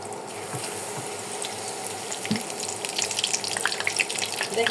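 Battered Malabar spinach leaves frying in hot oil until crispy give a steady, dense crackling sizzle close by, swelling slightly toward the end, with no voices.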